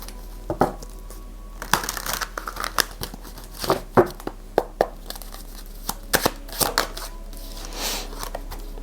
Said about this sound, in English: let's go towards my animal card deck. Let's get a couple of